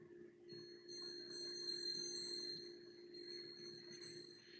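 Wind chimes ring softly outdoors, their thin high metallic tones lingering and overlapping in a faint, sustained shimmer over quiet background noise.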